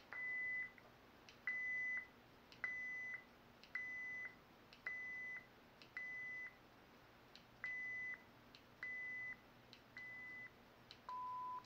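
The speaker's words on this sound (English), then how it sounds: "Now I'm going to get a beep every time I click." Short electronic beeps from a Proffie-board lightsaber prop's volume menu, one per button click, about ten evenly spaced tones ending in a longer, lower beep, faint and clean with no talking.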